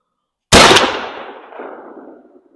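A single loud shotgun blast firing a Lyman 1 ounce Foster slug with a GSC12 tail wad, a sharp crack followed by a long rolling outdoor echo.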